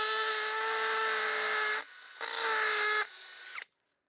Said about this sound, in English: I need to start drilling on the other side.